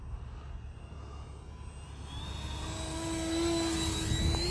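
A radio-controlled model plane's engine at about quarter throttle while the plane flies through a turn, giving a steady high whine that rises in pitch and grows louder over several seconds.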